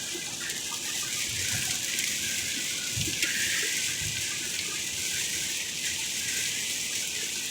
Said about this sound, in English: 20 seconds later, it starts pouring.